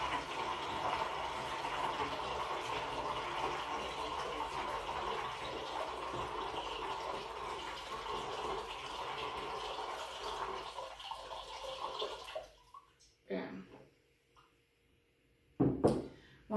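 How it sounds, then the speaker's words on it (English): Salt brine pours steadily into a homemade vinegar weed killer mixture, a continuous splashing stream of liquid that stops near the end, followed by a few faint knocks and drips. "So once you have your brine mixture, we're going to go ahead and start to pour that in."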